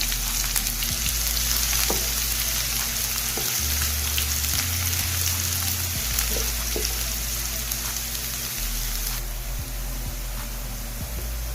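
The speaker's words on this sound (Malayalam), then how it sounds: "എണ്ണ ഒഴിച്ച് ചൂടാവുമ്പോൾ അതിലേക്ക് അരിഞ്ഞു വെച്ചിരിക്കുന്ന സവാള ഇട്ടെടുക്കാം." Chopped onion sautéing in hot oil for Kerala-style chicken sausage cutlets, a loud steady sizzle and crackle throughout with occasional stirring scrapes, close up and alone.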